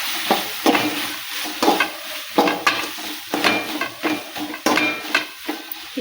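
A spoon stirs turmeric powder through a sizzling frying mixture in a pan for a vegetable sandwich filling, with repeated scraping strokes against the metal at an uneven rhythm, close and clear, with no talking.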